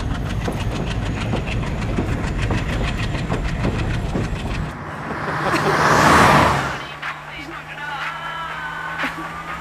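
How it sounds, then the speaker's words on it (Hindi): A train pulls out of a station with rhythmic clickety-clack and engine rumble, a loud whooshing swell passing around the middle before fading into quieter hum, with voices talking over it. "चल बाय कर दे ट्रेन को।"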